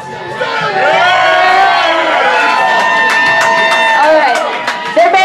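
A live crowd at a Style Wars hairstyling competition in a Richmond, Virginia venue cheers loudly for stylist Sarah, with whoops, shouts and yelling voices overlapping in a sustained burst that tapers near the end.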